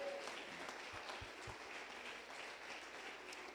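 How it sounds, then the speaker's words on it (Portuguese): Church congregation applauding during a worship service, a steady, fairly quiet wash of clapping from a crowd that holds evenly through the clip with no talk over it. "aplauda ao Senhor Jesus"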